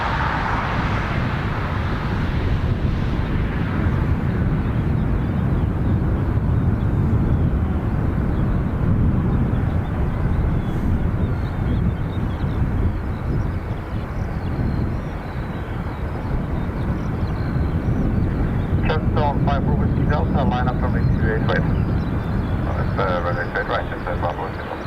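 A British Airways airliner taking off from Dublin Airport for London City, a sustained loud engine roar with a rising swell early on, and radio chatter crackling in toward the end.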